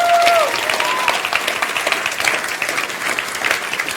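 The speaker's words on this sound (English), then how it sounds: "So can we have a round of applause, please," Audience at the International FameLab science communication final at the Cheltenham Science Festival applauds the three judges, a loud, steady wash of clapping that fills the room throughout.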